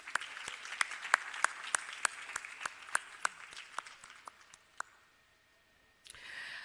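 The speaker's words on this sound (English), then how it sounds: "Could we have a round of applause for them" Audience applause at a moot court closing ceremony, a dense wash of many hands with a few sharp nearby claps standing out, fading to near silence before a brief burst of noise at the end.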